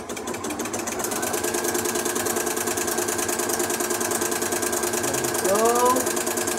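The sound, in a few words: Janome Flower Stitcher sewing machine stitching a shell tuck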